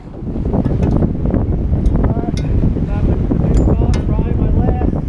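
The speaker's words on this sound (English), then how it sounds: "the wind is probably a constant 15-20 miles per hour" Strong, steady wind of roughly 15 to 20 mph buffets the microphone on a boat on the Susquehanna River during catfishing in snow and rain, a loud continuous roar with scattered small knocks and splashes.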